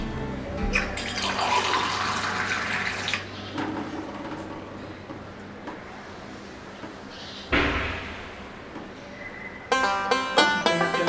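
A glass of water poured into besan flour, splashy running water with intermittent bumps and clatters, ending in a burst of sharp ringing clinks.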